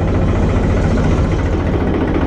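A tractor engine runs steadily as the clutch is slowly released and the tractor begins to roll forward, a loud, close, continuous low rumble with no talk over it.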